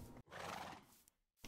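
A Minecraft horse lets out a short, close whinny, then falls quiet before a brief second sound cuts in at the end.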